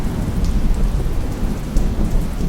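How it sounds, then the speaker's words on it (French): Heavy rain pours down outside in a steady, loud wash, with low rumbling beneath the constant patter. "je peux pas, là, il pleut dehors."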